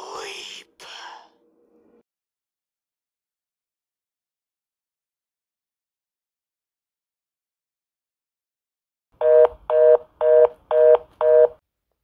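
A telephone call ends with a short burst of breathy whispering, then after a long silence five loud, evenly spaced dialing tones beep in quick succession.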